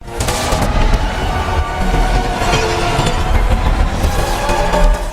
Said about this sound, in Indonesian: Adam yang marah menciptakan ledakan dahsyat tepat ketika Ismail akan memakai mahkota sabak.